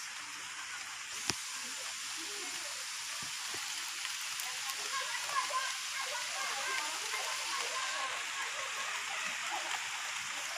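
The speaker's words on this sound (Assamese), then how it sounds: "বৰষুণো আহিল।" Rain falls outdoors in a village during a lamp-lighting festival evening, a steady fine hiss of drops on surfaces with an occasional sharp tap, even and moderately close.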